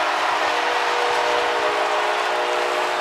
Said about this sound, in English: that train horn in the dome is blasting away